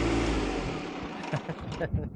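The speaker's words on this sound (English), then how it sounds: "Here comes my friend with his tractor." A tractor approaches outdoors, its engine rumbling loudly at first, then fading under clattering and rustling.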